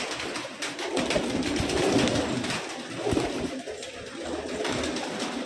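Pigeons kept in a crowded room of Punjabi Malwai birds coo steadily, many soft overlapping calls forming a dense, continuous murmur close by, with no voices.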